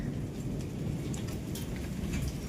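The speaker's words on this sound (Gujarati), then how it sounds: "થોડોક વરસાદ ઓછો પડી ગયો છે, ધીમો પડી ગયો ને ગાજે છે તો હજી એવો ને એવો ગાજે છે." Steady heavy rain during an unseasonal summer storm in Gujarat, a dense unbroken hiss with low rumbling thunder beneath, continuous and enveloping with no voices.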